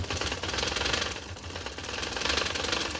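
Sewing machine running continuously while stitching a wide lawn-fabric palazzo pant, a steady dense mechanical rattle with a fast even rhythm, close and fairly loud throughout with no talk.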